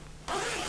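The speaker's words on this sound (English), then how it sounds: "Open up your zips." Zippers on a sewn two-pocket fabric pouch get pulled open in one quick, close rasping zip that starts abruptly after a short quiet moment.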